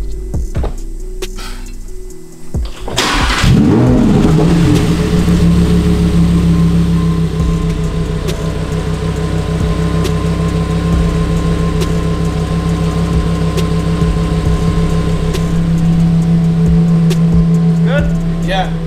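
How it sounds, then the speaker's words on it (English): A Lamborghini Huracan Performante engine cranks and catches after a few seconds, then settles into a loud, steady idle hum close by. "let's start the car again"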